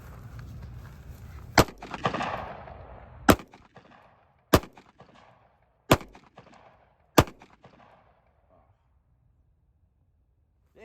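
Five sharp pistol shots from a Springfield Prodigy or Staccato P, fired one by one at a 100-yard target outdoors, spaced about a second apart. Each crack is loud and close, with a short echo trailing off, and some voices come before the first shot.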